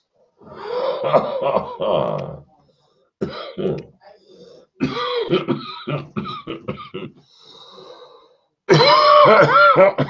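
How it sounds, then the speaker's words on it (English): A man coughs and clears his throat in a few rough bursts separated by short silences, close and loud, ending in a stronger hacking cough. "I have to cough"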